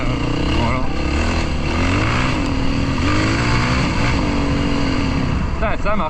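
A Yamaha 450 WR-F enduro motorcycle engine revs and runs steadily close by, a loud continuous drone with rising and falling pitch, while a rider's voice talks over it.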